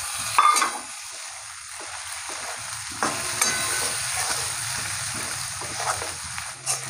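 Chopped tomato dropped into a pan of already fried onion and garlic paste, hissing and sizzling steadily while being stirred, with a few louder spits and scrapes over a continuous frying noise.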